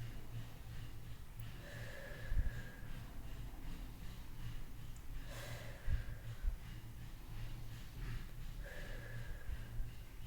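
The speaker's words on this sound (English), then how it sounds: "take about 3 to 5 deep breaths, like this" A person takes slow, deep breaths in a quiet room, three long inhale-exhale cycles spaced a few seconds apart, close and soft, with no talking.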